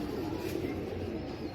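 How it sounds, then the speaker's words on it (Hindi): Lal Pari pigeons coo with a soft, low, continuous throaty murmur, close and steady throughout. "ये मैंने ओरिजिनल खरीदे हुए हैं कबूतर"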